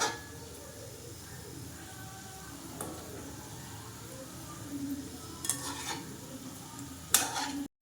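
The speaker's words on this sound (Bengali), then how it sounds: "এরকম লাল লাল করে ভেজে নিতে হবে" Gulab jamun dough balls made from flour fry in hot oil with a soft, steady sizzle, broken by a few sharp clinks of a utensil against the pan near the end.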